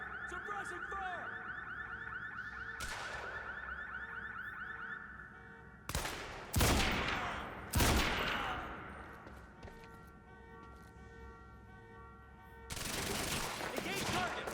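Suppressing gunfire in the video game Quantum Break: a few loud, close shots in quick succession cut through a sustained wailing, alarm-like tone, with a final burst near the end.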